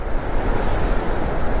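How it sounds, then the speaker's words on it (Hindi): Powerful mountain river rushing hard below Ram's Rainbow Point on the Yamunotri–Gangotri route, a loud, steady, broadband roar of churning water with gusty wind buffeting the microphone and no pause. "क्या फोर्स है पानी की"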